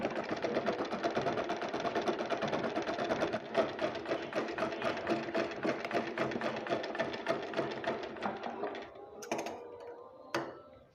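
A sewing machine stitches the bottom hem of a long piece of cloth for a sharara, with a steady mechanical whir and rapid needle ticking for about eight seconds, then stopping and starting in short bursts near the end.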